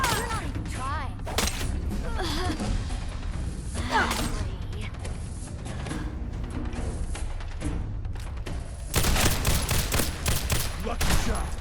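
Bursts of gunfire in Fallout 4 rattle in rapid volleys across the stretch, loudest near the end, with a voice talking in between the shots.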